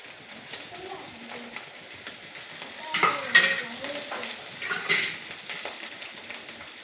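Potato pieces for homemade pani puri frying in a pan, with a steady soft sizzle and occasional stirring scrapes that swell briefly midway, fairly quiet and close.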